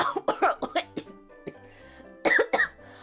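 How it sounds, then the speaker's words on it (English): Several short, harsh coughs in quick bursts, a pause, then another cluster of coughs, close and fairly loud. "I was coughing less today"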